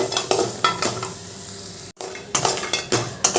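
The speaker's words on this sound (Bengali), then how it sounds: "বড়িগুলো ভালো করে লাল লাল করে ভেজে নেবো" Urad dal bori frying in hot oil, a steady close sizzle broken by repeated scraping strokes of a spatula against the pan, briefly cutting out midway, with no voices.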